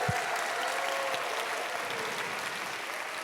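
A church congregation applauds to welcome worshippers, a steady, moderately quiet patter of many hands clapping together that carries on throughout with no talk over it.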